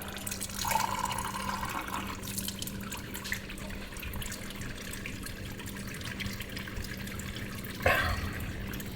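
Filtered water trickles steadily from a faucet in a camper, faint and close, with a couple of louder splashy surges near the start and end over a constant low hum.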